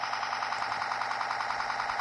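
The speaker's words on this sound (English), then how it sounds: "One is like a car alarm or like part of a siren, and also this lights up." Transformers Universe Ultra Onslaught toy emits a loud, continuous electronic car-alarm-like warble, a steady looping siren tone filling the whole stretch with no talking.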